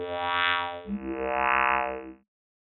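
The Advanced Oscillator Quad A synthesizer preset plays its default sound. Two sustained, buzzy, harmonically rich tones follow one after the other, the second slightly lower and pulsing, and both end abruptly into silence.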